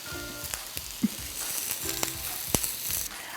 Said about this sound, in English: make sure you put your vegetables down where you're getting as much contact with the grill as possible